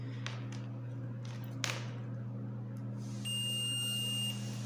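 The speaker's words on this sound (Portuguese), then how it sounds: "nós vamos pegar o multímetro e vamos colocar aqui, ó, nessa função de continuidade aqui, ó, de bip" A multimeter set to continuity mode, used on a fan's motor coil, emits a steady high electronic beep lasting about a second over a low mains hum, preceded by a few small clicks and taps.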